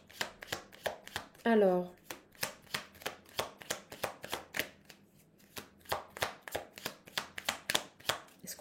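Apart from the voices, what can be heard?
shuffling tarot cards for a reading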